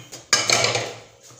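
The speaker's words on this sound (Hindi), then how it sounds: "मैं जो है ये बर्तन उठाने लगी हूँ। बर्तन जो है वो धो लेते हैं।" Dishes and metal utensils clatter and clink as they are gathered up for washing in a home kitchen, one brief jangling burst that trails off.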